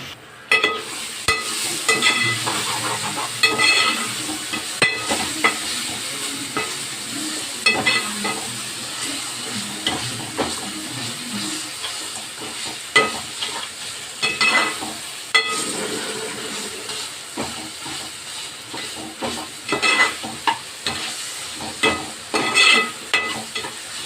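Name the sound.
tomato thokku sautéing and being stirred in a pan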